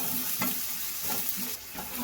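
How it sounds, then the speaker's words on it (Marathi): Garlic roasts in a pan set to one side with onion, turmeric and tomato cooking nearby, giving a steady close sizzle and frying hiss with a few soft stirring scrapes and no talking. "लसूण टाकायची राहिली होती म्हणून ते साईडला भाजून घेते"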